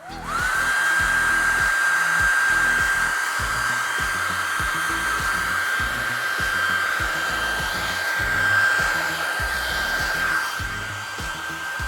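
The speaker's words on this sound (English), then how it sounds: "We're gonna blow dry this a little bit longer because I think the paint's a little bit too wet still to work." A hair dryer blows on wet paint on a dreamcatcher plate, a loud steady whirring hum with a high whine that runs continuously for about eleven seconds.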